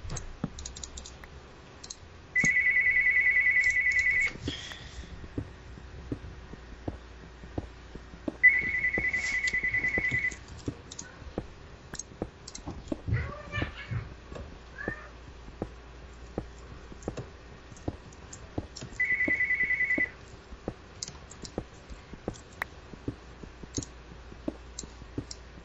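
A phone ringtone chirps in three sustained bursts of a couple of seconds each, interleaved with clicking and keyboard-like tapping from a Minecraft play session, fairly loud and close with no talking.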